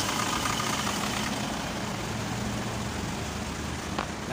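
An Isuzu 4JA1 diesel engine idles steadily throughout, a continuous close low rumble with a dense broadband mechanical clatter and no talking.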